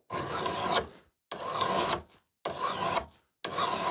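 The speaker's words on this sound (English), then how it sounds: "So my file is going to slowly be walked back as I am progressing so that I keep that nice arc." A hand file rasps along an axe blade being sharpened, in four long, loud strokes separated by short pauses, each a gritty broadband scrape.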